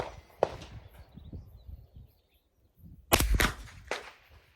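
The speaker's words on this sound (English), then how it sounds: "Again, you can hear the crack, but it is suppressed." Two sharp reports from a 9mm pistol firing 115 grain rounds through a JK 105 CCX suppressor, each a short crack followed by a brief tail, sounding outdoors with quiet between shots.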